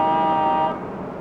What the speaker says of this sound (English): The heck is he honking at?